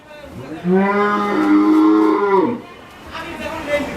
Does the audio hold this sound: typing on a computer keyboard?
no